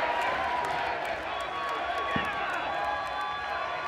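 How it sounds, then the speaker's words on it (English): A wrestling arena crowd keeps up a continuous roar of cheering and applause in support, with a commentator talking over it throughout. "Listen to the crowd giving him their support."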